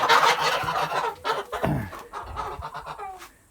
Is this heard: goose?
yes